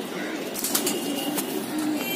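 Pigeons coo softly in a loft in Mumbai, India, with low, rounded calls repeating against a steady background hiss and a few faint rustles.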